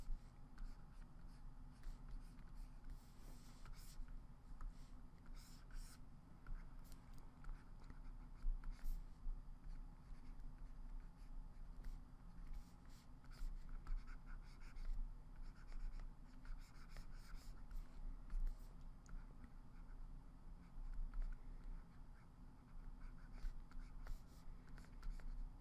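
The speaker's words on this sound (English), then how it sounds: "just going to draw a foot side on. It's a nice rough one." A pencil sketches a rough side view of a foot on paper, with continuous scratchy strokes rasping steadily and close up, with no talking.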